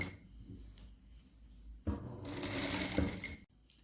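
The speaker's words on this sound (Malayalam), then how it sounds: "ഫ്രണ്ട് നെക്ക് സ്റ്റിച്ച് ചെയ്ത പോലെ ബാക്ക് ഭാഗവും നമ്മൾ പതിച്ചടിച്ചെടുക്കുകയാണ്." A sewing machine stitching the back neck of a kurti: soft handling sounds, then a rapid, steady mechanical whirr for about a second and a half before it stops abruptly.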